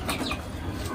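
Pigeons coo in a brief, low, muffled burst against rough background noise, with chickens kept nearby.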